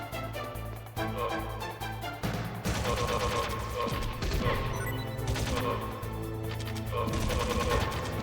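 Hip-fired gunfire in Metal Gear Solid sounds as rapid automatic bursts layered with crashing impacts and game music, loud and dense across the clip.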